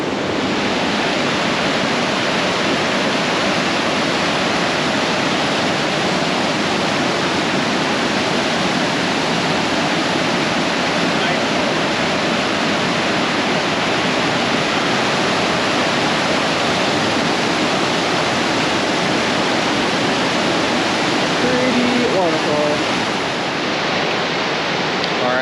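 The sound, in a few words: waterfall at Mystic Falls, Kings Canyon National Park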